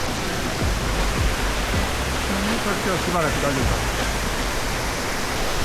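A waterfall in a mountain stream in the Southern Alps of Japan pours with a loud, unbroken rushing roar, a close wall of water noise while someone speaks briefly over it.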